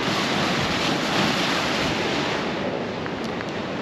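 Ocean waves breaking at the shore with gusty wind buffeting the microphone, a loud continuous roar of surf and rushing air, no voices.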